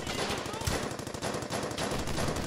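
Rapid, continuous machine gun fire in the Battlefield video game, a loud, dense stream of bursts layered with other gunfire and no gaps for the full stretch.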